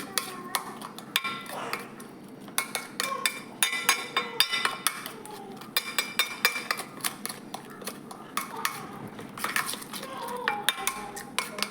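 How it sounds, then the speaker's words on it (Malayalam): A spoon stirring a red spice paste in a bowl, making repeated clinks and scrapes in an uneven rhythm, close and fairly quiet. "ഇളക്കി ഒരുപോലെ ആക്കണം"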